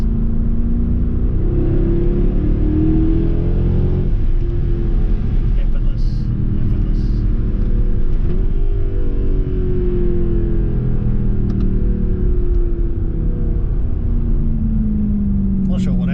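A 500hp sports car driven on city roads, its engine a deep, steady rumbling drone heard from inside the cabin, with gear-linked pitch sweeps and mild revving throughout the ride.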